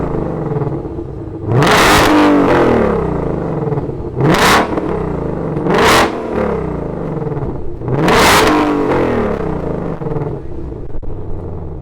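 A 2021 Shelby GT500 Signature Edition widebody Mustang fires up and is revved hard, four sharp roaring blips rising and falling over a deep rumbling idle, loud and close with no talking.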